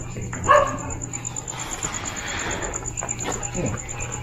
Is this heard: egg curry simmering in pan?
no